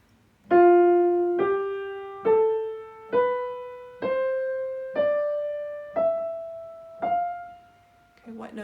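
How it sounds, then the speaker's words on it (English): A keyboard plays the Lydian scale on the white keys from F up to F, sounding eight separate notes in a steady ascending run, each with a bright harmonic tone that rings and decays. At the end a brief voice begins. "The scale using 8 white keys beginning and ending on F is called the Lydian scale."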